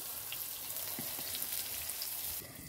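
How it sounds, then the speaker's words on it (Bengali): Pointed gourd (potol) slices frying in oil in a covered pan, a soft, steady, muffled sizzle heard alone and fairly faint. "এই পটল ভাজাটা যে বসিয়েছি তাতে একটু ঢাকনা লাগিয়ে দিয়েছি অল্পক্ষণের জন্য"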